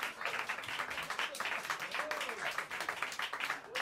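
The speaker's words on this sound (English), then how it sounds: "Let's have another big round of applause for this wonderful music." Applause from a small club audience after a live jazz set at Mezzrow in New York City, a modest, uneven spatter of clapping with some voices mixed in beneath it.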